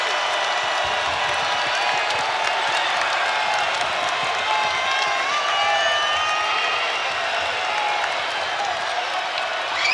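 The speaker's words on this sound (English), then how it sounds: "Here comes the crowd." A packed basketball arena crowd roars and cheers continuously during a tight late-game stretch of a men's college game, a loud, dense, sustained wall of voices.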